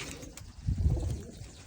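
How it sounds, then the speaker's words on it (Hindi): Low, soft pigeon cooing rumbles briefly near by, a short throaty murmur against faint background noise. "सारे खूबसूरत कबूतर हैं माशाल्लाह"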